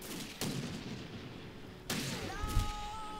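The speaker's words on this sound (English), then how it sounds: "the rifle volleys did finally take them out" Two sharp rifle volleys from WWII-era infantry in the strategy game Blitzkrieg 2, each a loud crack trailing into a rumbling decay over low battle ambience, with a faint whistling tone lingering after the second.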